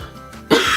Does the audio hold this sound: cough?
yes